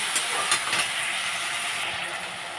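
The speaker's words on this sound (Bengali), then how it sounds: "আলুর সঙ্গে আমি মশলাটাকে ভালোভাবে কষিয়ে নেব।" Potatoes frying with turmeric, salt and spices in a pan, giving off a steady broad hiss and sizzle, close and continuous, with no talk over it.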